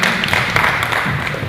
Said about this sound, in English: A round of applause again to the panel.